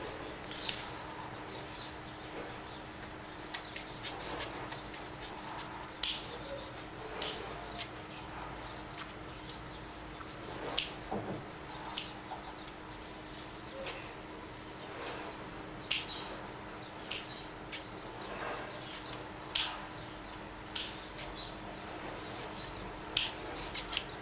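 Small sharp snips and clicks as matchstick heads are cut off with scissors, repeating irregularly and close by over a quiet background hum, with no talk.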